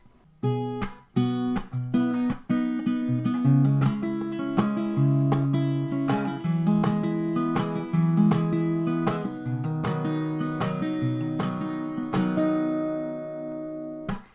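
Guitar plays the chorus of a song: a sequence of strummed and picked chords with clear attacks and ringing sustain, moving through changes over about fourteen seconds, solo instrument with no voice.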